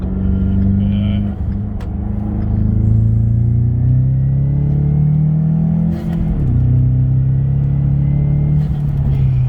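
A 2016 Ford Mustang EcoBoost accelerating hard up a highway on-ramp, its engine droning and rising in pitch through the gears with a brief dip at a shift, loud and heard from inside the car.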